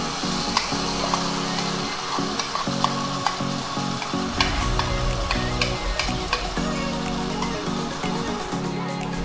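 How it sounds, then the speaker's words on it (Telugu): Marinated mutton sizzles loudly in a hot pan for mutton biryani while a utensil scrapes and stirs it in repeated strokes, with steady frying crackle throughout. "ఇప్పుడు మనం అన్నీ కలిపి పెట్టుకున్న మటన్ని వేసేసుకోవాలి."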